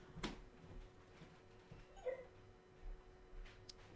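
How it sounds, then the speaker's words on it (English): A pet dog makes a few small, quiet yappy whimpers and barky yips, brief and scattered over low room noise during a relaxed indoor game-trailer viewing. "She does these little like yarpy, barky noises when she wants to be paid attention to."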